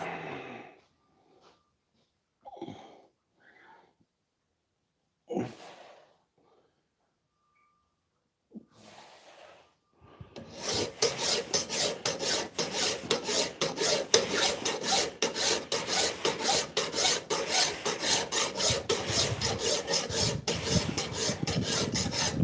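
Nicholson Magicut files rasp against a dagger blade in a workshop. The strokes are loud, close and rhythmic, repeating steadily after several seconds of quiet, scattered sounds.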